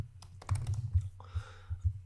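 Computer keys clatter as code is typed, quick bursts of clicks with brief gaps, close and moderately loud, with no voices.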